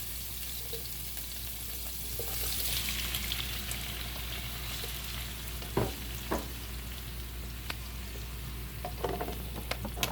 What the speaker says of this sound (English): now we are going to add the tomatoes